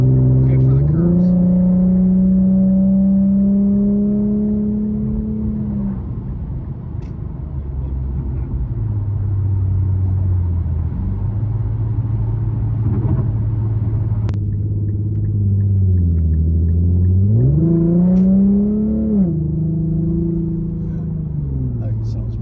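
An Infiniti Q50 engine hums steadily from inside the cabin, with its pitch rising and falling as the car accelerates and shifts gears. Occasional voices speak over it.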